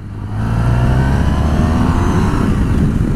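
A Honda VFR1200X motorcycle engine rises from a quiet start into a loud, steady rev as the throttle opens, holding a strong, close roar for about three seconds.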